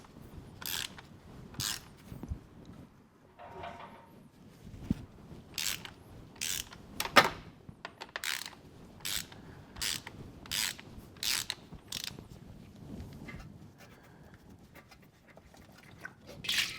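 A wrench works loose the oil filter on a Lexus during an oil service, giving a run of sharp ratcheting clicks in regular bursts with short pauses, close by and fairly loud, with no talking.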